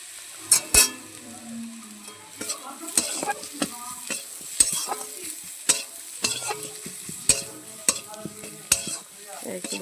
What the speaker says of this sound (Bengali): লাল করে এটা ভেজে নেবো, একটু পেঁয়াজটা ব্রাউন করে নেবো।